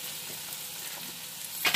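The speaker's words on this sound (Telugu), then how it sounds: "చిక్కుడుగాయల్లో కొంచెం వాటర్ ఉంటుంది కదా, వాటర్ పోయే వరకు ఇలాగా ఫ్రై చేసుకుందాము" Broad beans (chikkudu) frying in a pan to cook off their water, making a steady close sizzle with a louder stirring scrape right at the end.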